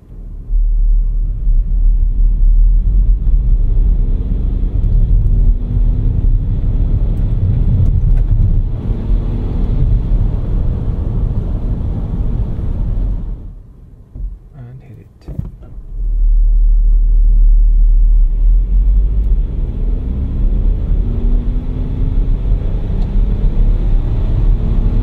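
A 2024 Renault Espace in sport mode accelerates hard from inside the cabin, a loud deep engine and road roar building steadily, dropping briefly during a gear change, then surging again.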